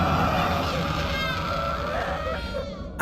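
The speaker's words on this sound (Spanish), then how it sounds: "a lo lejos escuchamos los gritos desesperados de todos los niños de la pizzería" Distant children scream and wail in the FNAF Into the Pit video game, a continuous tormented chorus of cries with a wavering, echoing quality that fades abruptly at the very end.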